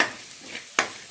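Coriander powder being stirred in a frying pan, with a soft continuous sizzle and a sharp scrape of the spoon near the end, close and brief.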